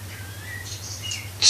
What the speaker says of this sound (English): Now there's a frigging blackbird singing.